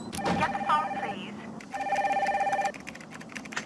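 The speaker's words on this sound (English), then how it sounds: "Get the phone, please." In the Nancy Drew game Danger By Design, an electronic telephone rings in two clear bursts, with a spoken line between them.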